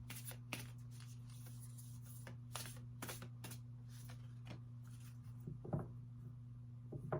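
Oracle cards being shuffled by hand in quiet bursts of soft riffling and light taps, irregular and close, over a steady low hum.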